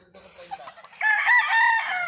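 Young rooster (stag) gives a few soft clucks, then breaks into a loud, close crow that holds strongly to the end.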